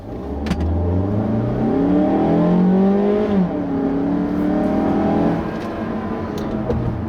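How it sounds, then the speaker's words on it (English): Mazda CX-3 with a 2-liter Skyactiv engine accelerates hard, its revs climbing and dropping through shifts, loud and steady from inside the car. "The 2-liter Skyactiv engine is surprisingly peppy in something that this size."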